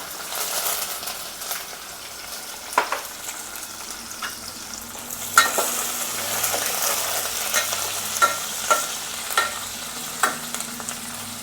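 Green chillies, onions and curry leaves fry in hot oil with a steady, close sizzle, while a spoon stirs them through and scrapes and clinks against the pan in scattered sharp taps.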